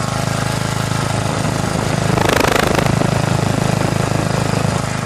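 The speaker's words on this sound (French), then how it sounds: "Donc voilà pour le générateur qui donne bien du 230 volts" A propane-fuelled generator putting out 230 volts runs steadily nearby, a loud continuous engine drone that swells briefly in the middle, with no voices.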